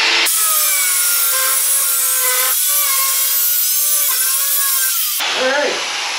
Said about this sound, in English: So now that's grinded off, we'll grind off 3 inches.